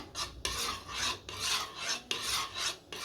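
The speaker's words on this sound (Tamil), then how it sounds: "இப்போ அதையும் நல்லா மிக்ஸ் பண்ணி விட்டுக்கலாம்" Red-coloured custard for a falooda drink stirred in a bowl, a close, steady rhythmic scraping with repeated strokes about every half second, with no voices.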